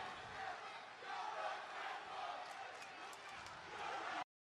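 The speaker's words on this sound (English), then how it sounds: "they chant, "You're ungrateful" to the Shield right now" A wrestling arena crowd chanting together, a dense, sustained roar of many voices rising and falling in a rhythmic chant that fills the whole space.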